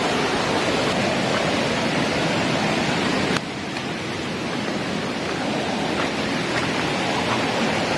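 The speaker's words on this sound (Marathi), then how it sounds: "पाण्याचा प्रवाह पण जरा वाढलेला आहे" Loud, constant rushing of a swollen stream, a dense roar that dips slightly partway through and carries on.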